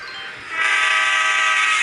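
A train pulls into a station in the Indian GTA video game, its horn sounding as a loud, sustained blare that swells over a rumbling rail noise, with no voices.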